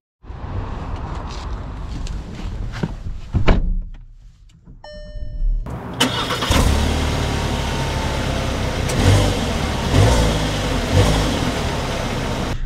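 A 2024 VW Tiguan SE starts moving with a door thunk and a brief chime, then engine hum and road noise build steadily as the car drives along, with no talk.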